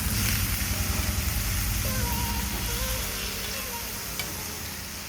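Fenugreek greens frying in an iron wok with steady sizzling while being stirred, a constant near hiss with low rumbling underneath and occasional faint scrapes, no talk.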